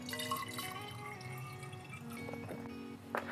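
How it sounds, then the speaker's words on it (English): Distilled water poured into a 450 ml mixing glass makes a steady, faint trickle with a few drips and light clinks close by. A brief louder splash comes near the end, and no one speaks. "So I'm gonna use our 450 milliliter mixing glass, and then first measure out that amount of distilled water."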